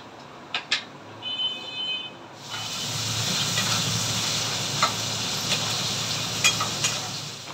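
Cumin seeds and bay leaves drop into hot oil for a soybean and potato curry, bursting into a loud, steady sizzle after a few seconds of quieter clinks, then hissing continuously at close range.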